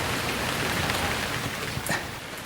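Rain falls steadily, a close, even hiss of drops with a slightly louder patter near the end and no voices.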